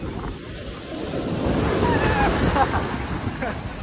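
Surf breaks on a Goa beach, a broad, steady wash of waves that builds slightly midway, with faint background tones.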